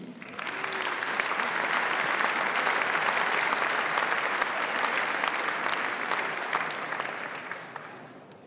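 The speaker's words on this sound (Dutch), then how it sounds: "Mag u applaus voor Jack de Vries." Sustained audience applause at the Sportgala Fryslân 2014 sports gala, a steady dense clapping from a large crowd that swells quickly, holds for several seconds and fades toward the end.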